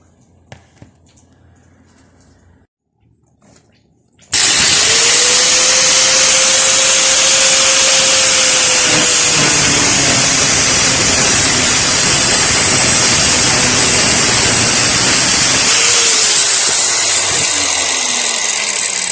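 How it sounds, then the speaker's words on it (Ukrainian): After a few quiet seconds, an angle grinder starts abruptly and whines loudly and steadily at close range, its pitch dipping and rising as it cuts around the metal housing of a washing machine motor. "Зараз по колу болгаркою зробимо надріз"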